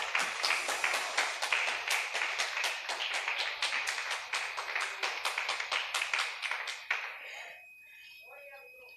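Congregation in a church clapping together in a dense, steady burst of applause that lasts several seconds, then breaks off abruptly, leaving faint scattered sounds in a quiet room.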